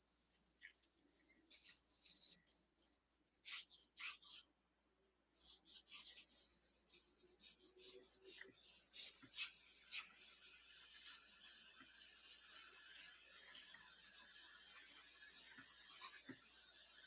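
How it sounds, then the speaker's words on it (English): An HB pencil held loosely sketches a layout on paper, giving soft, close scratchy rubbing strokes in irregular bursts with a brief pause, quiet and continuous, with no talking. "using a regular HB pencil, and I like to hold it loose when I'm getting my layout in"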